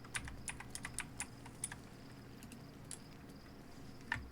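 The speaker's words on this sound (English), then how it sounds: "Cat, don't sit on my keyboard." A cat steps across a computer keyboard, pressing keys in a scattered run of faint, quick clicks at irregular intervals, with one more distinct tap near the end.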